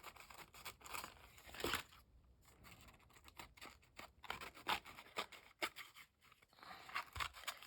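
Scissors snip and rustle through excess napkin paper on a handmade card, giving quiet uneven bursts of crisp cutting and crinkling with brief pauses between strokes, close up and without speech.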